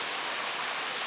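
Broad, steady rushing of a flowing river close by, a continuous bright wash of water with no voices.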